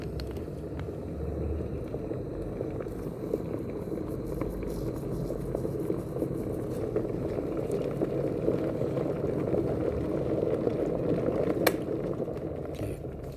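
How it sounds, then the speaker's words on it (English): Water in a kettle boils hard, a dense, steady bubbling and rumbling that holds close and loud throughout, with faint clicks on top. "Bubbling away."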